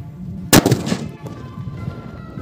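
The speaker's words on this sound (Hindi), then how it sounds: "तो आज हम इस वीआईपी बम को इसके ऊपर लगाकर इसको उड़ाने वाले हैं।" A VIP bomb firecracker bursts on a foam spray bottle with one sharp, loud close blast, followed by a short rumbling decay and faint debris noise.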